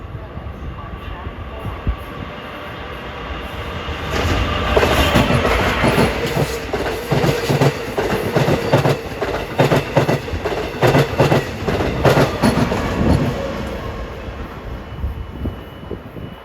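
An LIRR diesel train bound from Penn Station to Speonk rolls through Woodside at evening rush, a loud continuous rumble with rhythmic clickety-clack from the wheels building mid-pass, close by.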